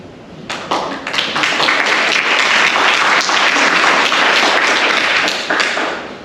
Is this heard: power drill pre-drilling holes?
no